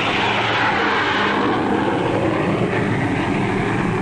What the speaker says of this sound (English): Huge airliners carry into the sky each day an ever larger tonnage of cargoes and passengers.